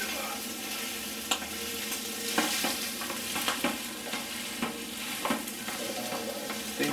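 Sisig frying in a pan, a steady loud sizzle with occasional scraping stirs and clinks of a spatula, close up and continuous, with no voices.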